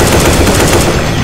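Dense, loud automatic gunfire in the Left 4 Dead 2 video game, a continuous overlapping barrage of shots with no clear gaps and no voices.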